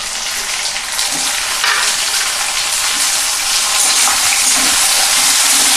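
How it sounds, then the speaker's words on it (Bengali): Chopped tomatoes hit lightly browned onions in a hot pan for a Bengali Bombay duck fish jhal, giving a loud, steady, continuous sizzle with some stirring, and no voices. "এবার আমি দিয়ে দেবো কুচানো টমেটো।"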